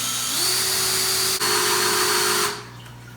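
A power drill driving a hole saw whines at a steady pitch for a couple of seconds, briefly catching once, then winds down into quieter hiss.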